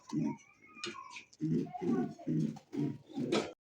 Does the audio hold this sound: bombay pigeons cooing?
yes